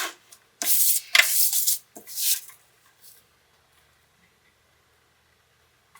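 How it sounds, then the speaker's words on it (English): A paper trimmer slices card stock in a few quick scraping strokes, each close and crisp, followed by a short clack and then near silence. "my paper trimmer here, now I want to trim this down"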